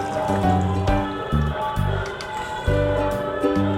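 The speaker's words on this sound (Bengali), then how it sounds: "আমি এই জলটা ঢেলে দিলাম" Water poured into a cooking pot of mixed vegetable curry (nabaratna tarkari), a bright splashing and gurgling pour with short bursts and breaks, close and loud with no talk.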